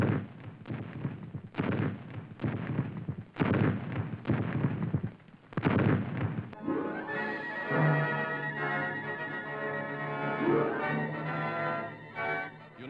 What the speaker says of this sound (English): United States officers now observe the effect of rapid artillery fire, the kind of mass barrage that bewilders the enemy.